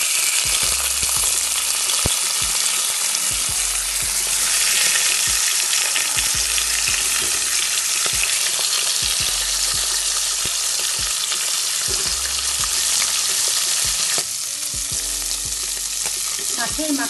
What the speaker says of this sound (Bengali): কড়াইয়ে তেল দিয়ে বসিয়ে দিয়েছি, তেল গরম হয়ে গেছে, এবারে মাছের মাথাগুলো ভেজে নেব